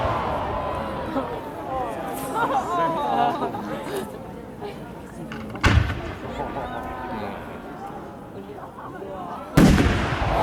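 Fireworks shells launching and bursting during a pyrotechnics pre-show, a rumbling wash of blasts and crackle with two sharp loud bangs, under excited nearby chatter.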